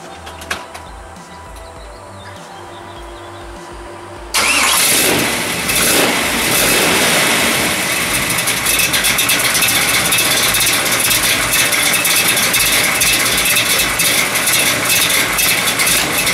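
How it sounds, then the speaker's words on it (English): A gasser car engine is started after a few seconds of quiet, then settles into a loud, close, rough idle with uneven exhaust pulses and slight revving, running on for the rest of the stretch. "here's a shot of the car running"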